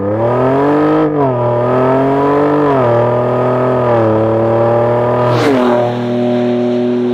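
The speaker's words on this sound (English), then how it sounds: "part of the reason you hear so much inside the cabin as well is because of where they've put that bimodal exhaust" A car with a bimodal exhaust revs loudly and close, heard from inside the cabin, its engine note rising and dipping through several pulls with a brief sharp burst near the end.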